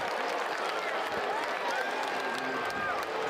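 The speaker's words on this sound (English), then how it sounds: "And I can see the Georgia Southern fans. Some are clapping." Georgia Southern football fans clap and cheer in a stadium crowd during a Maine game, a steady wash of applause and crowd noise that runs throughout with no break.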